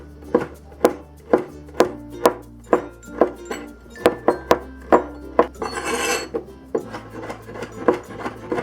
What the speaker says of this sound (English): So next, let's cut up the sausages.